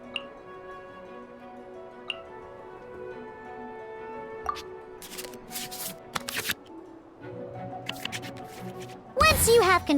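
Cards shuffled back into the draw pile in the Genshin Impact Genius Invocation TCG card game: soft digital ticks and sparse clicks give way to a rapid, bright flurry of shuffling at the end, set over quiet game music.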